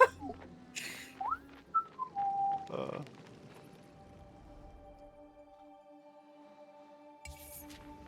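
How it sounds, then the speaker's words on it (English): Someone whistles a few short, rising and falling notes, followed by quiet background noise with a faint steady hum and a brief rustle near the end. "Whistling."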